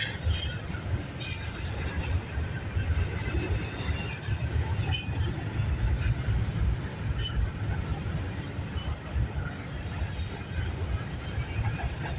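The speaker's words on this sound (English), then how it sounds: "We might have a potential train meet at this moment." A CN freight train rumbles past steadily at moderate distance, with rolling wheel noise and occasional high metallic squeals throughout.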